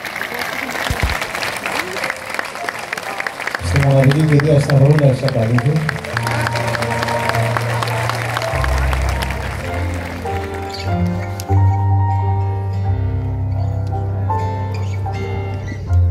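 At an outdoor memorial event marking the 81st anniversary of the Distomo massacre, a crowd applauds loudly. Someone speaks over the clapping, and sustained music then swells in and carries on beneath it.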